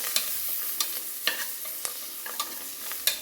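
Biryani masala sautéing in a pan for Dindigul-style mutton biryani, a steady close sizzle with several sharp stirring scrapes spaced through it, no voices.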